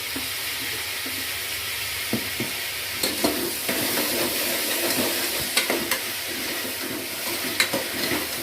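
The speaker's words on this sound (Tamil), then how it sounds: "இந்த தக்காளி வதங்கிறதுக்காக நான் உப்பு போடுறேன் கொஞ்சம்." Tomatoes frying with salt in a pan for chana masala, a steady close sizzle with intermittent spatula stirring scrapes and clinks, no talking.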